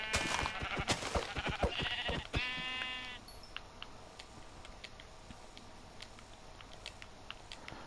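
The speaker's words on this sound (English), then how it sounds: "So the first thing I'm going to do here is just punch a few sheep." Sheep bleat in a video game during early survival gameplay, several loud nasal bleats close together near the start over clicky ticking game sounds, then quieter ticks and pattering alone.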